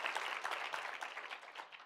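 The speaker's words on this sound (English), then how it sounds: "one more round of applause" Audience applause after a final student presentation, a brief moderately faint burst of many hands clapping with no talk over it.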